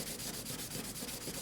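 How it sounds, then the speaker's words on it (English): Hand sanding of a 3D-printed part, a steady continuous rasping scrub of abrasive paper that runs without pause, close and fairly loud, with no talking. "You don't have to spend all night sanding it."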